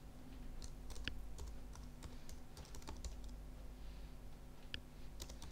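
Quiet keystrokes on a computer keyboard as text is entered, a soft irregular run of clicks and taps close by over a low electrical hum, with no talking.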